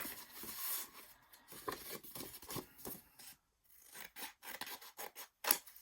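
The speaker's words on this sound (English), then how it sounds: "I want to cut this bit down" Scissors cutting paper for a Christmas junk journal, a run of quiet close snips and rustling paper strokes with brief pauses, soft and alone without talk.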